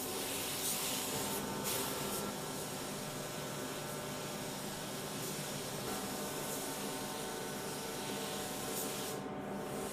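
A spray gun lays down the final coat of custom paint on a car, a continuous, close, steady hiss lasting throughout without pause or talk.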